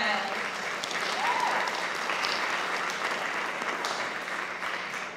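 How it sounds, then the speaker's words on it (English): A crowd at a Little/Mini Miss Spanish Fork pageant applauds steadily throughout, a dense wash of clapping heard up close with some scattered cheers. "So give them a round of applause for Boston Best and Zach Argyle."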